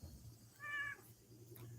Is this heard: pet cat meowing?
yes